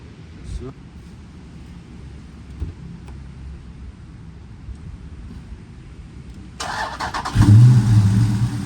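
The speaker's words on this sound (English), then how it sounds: "we're gonna let the car run for 15 minutes after putting a liquid Mighty flush in there, the engine flush in there" A car engine, freshly dosed with liquid engine flush after an oil change, cranks and catches near the end after a stretch of low background noise, then settles into a loud, steady close-up running rumble.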